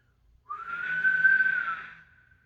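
A steady high-pitched feedback whistle from a microphonic pickup on a Firefly Les Paul copy guitar swells in, holds for about a second and a half, then cuts off, loud and alone.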